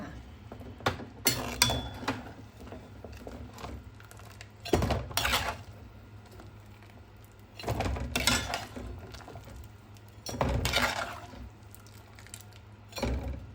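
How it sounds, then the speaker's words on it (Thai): Blanched pork bones scooped out of a cooking pot and rinsed in a kitchen, with repeated bursts of clattering metal, bone and water against cookware separated by quieter pauses, close and fairly loud. "เดี๋ยวเราตักขึ้นแล้วนำไปล้างน้ำค่ะ"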